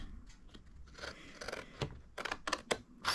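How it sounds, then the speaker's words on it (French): Scissors cutting paper for a tea calendar craft, a series of quiet, close snips and crisp paper rustles in irregular bursts. "On prend notre ciseau et on vient découper"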